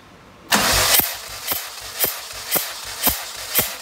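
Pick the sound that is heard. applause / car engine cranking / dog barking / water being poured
car engine cranking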